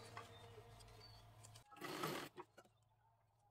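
A sewing machine stitches a folded section of sari fabric during dressmaking, a steady whirring run of about 1.6 seconds, then a brief louder burst followed by quieter handling noises; no one speaks.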